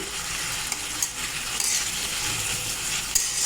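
Chopped onion, green chili and garlic added to a pan of gourd peel, giving a steady loud sizzle of frying with scraping and stirring clicks throughout, no voice.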